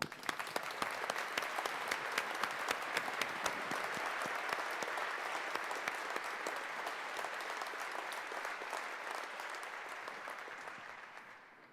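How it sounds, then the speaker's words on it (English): An audience at a university engineering graduation ceremony in Edinburgh claps steadily for about eleven seconds, a dense wash of applause that stays full and then gradually thins toward the end, with no speech over it. "Please join me in applauding Harold again."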